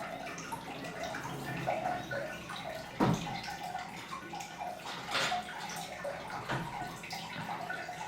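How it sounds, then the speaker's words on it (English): Water in an indoor onsen natural hot spring bath at a Yamanaka Onsen ryokan suite: a steady gentle trickle and wash of flowing water with occasional splashes and drips, heard alone at moderate volume. "And then here to the right is the Onsen natural hot springs bath."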